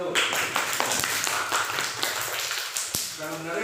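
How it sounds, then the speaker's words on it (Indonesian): A group of people claps together during an online Indonesian training session, a short burst of scattered, moderately loud hand claps lasting a few seconds. "Baik, tepuk tangan dulu."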